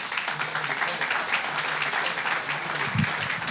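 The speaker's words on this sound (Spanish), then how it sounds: "Denle un aplauso a Jesús" A church congregation applauds together during a Spanish-language sermon, a continuous dense clapping that holds steady, with a brief low voice or thump near the end.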